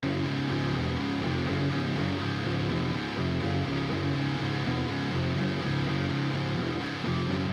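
Sustained layered guitar and bass parts play together in a steady, full harmonic texture, with low bass notes under higher sustained parts, continuous and fairly loud throughout.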